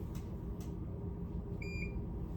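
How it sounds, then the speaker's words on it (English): A work machine gives a short electronic beep, a pair of clear tones close together near the end, over a steady low mechanical hum with faint clicks earlier. "Have to get that beep sound."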